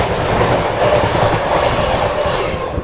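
The Mumbai Central–Nizamuddin Tejas Rajdhani train rushes past close by, a loud continuous rumble with rhythmic wheel clatter that holds steady throughout.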